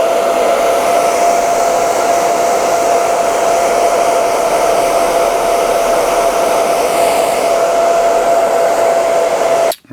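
A hair dryer blows steadily and loudly on a freshly colour-matched leather scratch and scuff repair, forcing the dye to dry, with a constant whine and rushing air throughout before cutting off abruptly at the very end.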